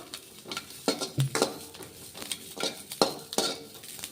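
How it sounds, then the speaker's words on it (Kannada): Green chillies fry in oil for a green tomato chutney while a spoon stirs and scrapes the pan, giving repeated close metallic clinks over a soft sizzle, with no voices. "ನೋಡ್ರಿ ಮೆಣಸಿಕಾಯಿ ಚೆನ್ನಾಗಿ ಫ್ರೈ ಮಾಡ್ಕೋಣ"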